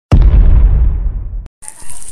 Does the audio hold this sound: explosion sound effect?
yes